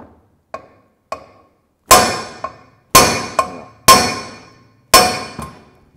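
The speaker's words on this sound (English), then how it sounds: "Try the steel hammer." A steel hammer strikes a Harley-Davidson Iron Sportster right-hand engine case in sharp metallic blows, a few light taps followed by four heavy ringing hits spaced about a second apart, each with a short decay.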